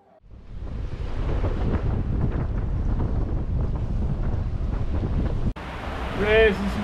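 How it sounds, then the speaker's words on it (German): A storm with wind and rain sweeps in over a sailboat cruising in the Gambier archipelago of the South Pacific, a loud, steady roar of wind buffeting the microphone that drops out briefly, then returns with a faint high whistling near the end. "Aber hier kommt gerade ein Unwetter rein."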